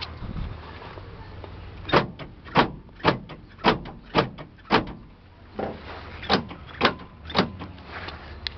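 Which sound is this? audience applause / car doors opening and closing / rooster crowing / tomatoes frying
car doors opening and closing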